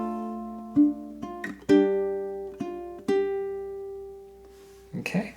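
A ukulele plucks a short walk-up in the Hanukkah, Oh Hanukkah melody: several distinct picked notes ringing out and sustaining, closing with a quick strum.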